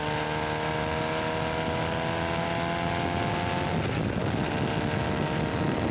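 A race car in the HSR Sebring Endurance Challenge accelerates through the track's turns, a loud, steady engine drone that shifts in pitch midway as it passes close by, with no talk.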